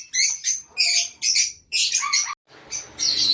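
Pet birds of mixed colour mutations chirp in quick, bright bursts of high-pitched calls with brief pauses, close and clear with no talk.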